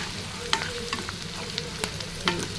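Turmeric fries in a pan with onions, a soft, steady sizzle broken by a few sharp clicks and scrapes as the mixture is stirred.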